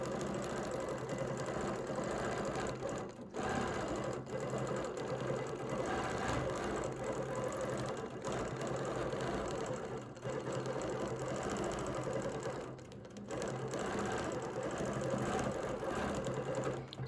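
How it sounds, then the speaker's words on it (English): A sewing machine runs quickly, stitching a practice piece guided along a ruler. It makes a faint, steady mechanical whirring hum with a few brief pauses. "I'm going to quickly stitch this"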